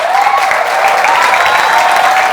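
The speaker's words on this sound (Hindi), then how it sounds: "तालियों के साथ उनको स्वागत करोगे।" A crowd applauds performers at an award distribution for Saraswati Puja and Republic Day at a college, giving loud, continuous clapping that stays even throughout, with a faint whistle-like tone riding above it.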